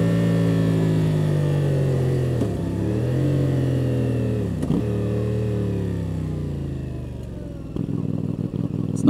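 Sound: motorcycle engine downshifting

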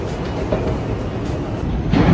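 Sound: subway train station in New York City

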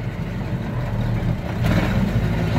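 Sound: manual car pulling away as clutch is released and throttle applied

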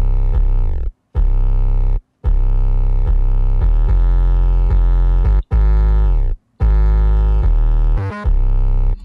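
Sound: processed fat overloaded 808 bass

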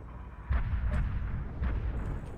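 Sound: plasma cannon firing in video game MechWarrior Online

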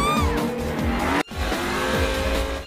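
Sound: cartoon cars racing

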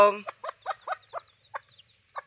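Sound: hen clucking outside

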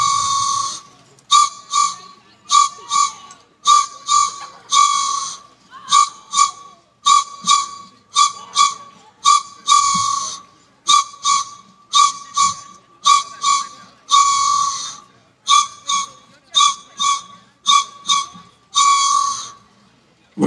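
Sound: whistle being blown

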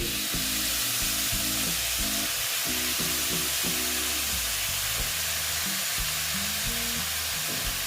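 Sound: ash gourd pieces added to frying spice paste, sizzling

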